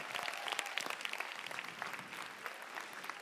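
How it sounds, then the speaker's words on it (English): A crowd applauds steadily, a dense wash of clapping from many hands, moderately distant and continuous throughout. "Please give yourselves a huge round of applause."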